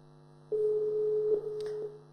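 A single telephone ringback tone sounds during an outgoing call, a steady electronic tone that starts after a short silence and holds for about a second and a half, then stops, with faint background noise.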